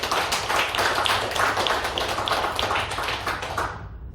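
A church congregation clapping during a Korean Thanksgiving Sunday service: a full, rhythmic round of many hands beating together in a steady pulse, loud and close, ending abruptly after about three and a half seconds.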